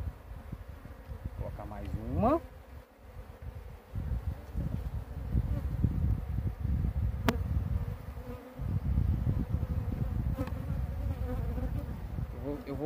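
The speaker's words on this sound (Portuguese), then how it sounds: "As abelhas já estão lá perto." Honey bees hum and buzz steadily around large hive frames with wax foundation sheets during a colony transfer outdoors, a dense close drone with occasional nearer fly-bys and faint handling rustle.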